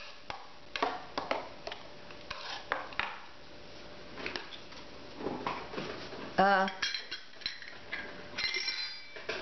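Pork bulgogi marinade being stirred in a bowl, with a steady run of light clinks, taps and scrapes of a utensil against the bowl at close range, and a brief louder rattle near the middle.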